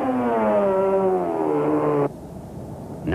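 A rally car labours loudly up a mountain pass toward the highest point of the Eastern Drakensberg, its engine a steady droning roar that cuts off abruptly, leaving gusty wind noise.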